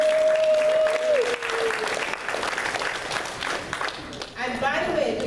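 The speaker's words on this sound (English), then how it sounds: "Give them a big round of applause." An audience applauds loudly and continuously, a dense close wash of clapping that lasts the whole moment, with a voice and a brief tone audible over it.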